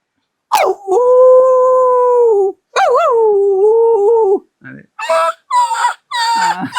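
A voice imitates a dog howling: long wavering howls rising and falling, then a run of shorter yelping whimpers, close and loud with no other sound.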